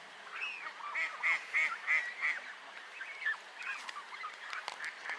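Several Canada geese honk in a rapid run of loud calls that then trail off into scattered quieter honks, with no voices.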